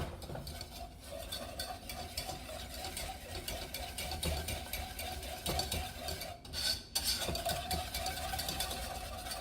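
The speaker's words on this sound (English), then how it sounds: "So I'm going to go ahead and add it a little bit at a time and whisk it through." A whisk stirs milk into a roux in a pan with a continuous soft scraping and swishing, faint and steady, with a couple of brief louder knocks against the pan near the end.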